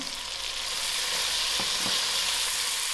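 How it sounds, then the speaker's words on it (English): Fried potatoes sizzling in a pot for a spicy soup as tomato is added, a steady hissing fry with a couple of soft stirring knocks, close and uninterrupted. "my potatoes are fried out. So to these potatoes, I'm going to add in my tomato"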